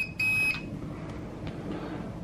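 A Holystone HS200D drone's remote controller gives a short, high electronic beep near the start, clear and close, followed by quiet room background.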